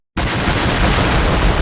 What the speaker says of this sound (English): can you put more explosions?